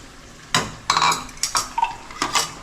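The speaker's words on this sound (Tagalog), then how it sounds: "pwede mo na siyang haluin." A spoon scrapes and clinks in a pot as an egg and sardine dish is stirred, with a few sharp metallic knocks and a brief rasp, loud and close with no talking.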